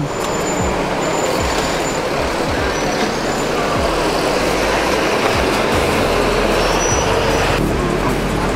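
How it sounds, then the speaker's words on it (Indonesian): An Arya Prima intercity bus bound for Palembang and Jambi pulls into Pondok Pinang terminal with a loud, close diesel rumble, hissing air brakes and surrounding traffic noise. "Nah, masuk lagi bis Arya Prima tujuan Palembang Jambi"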